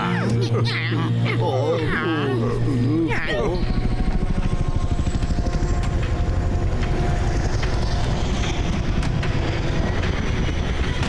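A helicopter in an animated cartoon flies past with a loud rhythmic rotor chop and engine rumble, following a few seconds of voices and cartoon effects at the start.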